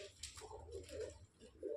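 Soft, low coos from Punjabi Malvai pigeons murmur repeatedly at close range in a quiet space. No voices are heard.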